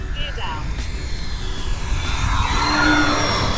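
An FMS T-28 radio-controlled model warbird airplane makes a flying pass with its landing gear down, a whining electric motor sweeping in pitch as it approaches and passes, under steady background noise.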